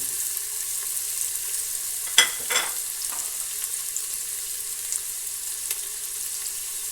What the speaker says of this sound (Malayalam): ഞാൻ അരിഞ്ഞു വെച്ച ഈ വലിയ ഉള്ളി ഇതിലേക്ക് ഇട്ട് കൊടുക്കുവാണ്